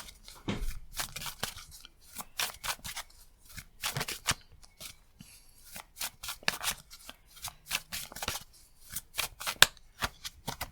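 Tarot cards shuffled by hand in a love reading, a run of crisp riffling bursts and soft card slaps repeating steadily, close and fairly quiet, with no talking.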